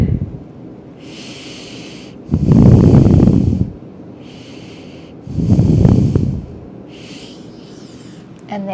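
Slow, deep breaths during a lower-back stretch in child's pose: two long, loud breath sounds, each lasting about a second and a half, with quieter breathing in between and nobody speaking.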